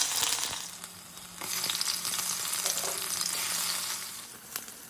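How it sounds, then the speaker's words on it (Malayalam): Oil sizzles and spatters steadily in a pan as fenugreek, garlic, ginger and green chilies fry for sardine curry, with a few scraping stirs and crackles rising and falling over several seconds; no voices. "ഒരു ചട്ടിയിൽ എണ്ണ ചൂടാക്കി ഉലുവ പൊട്ടിച്ച് ചതച്ച് വെച്ച് വെളുത്തുള്ളി, ഇഞ്ചി, പച്ചമുളക് ഇട്ടൊന്ന് മിക്സ് ചെയ്യാം"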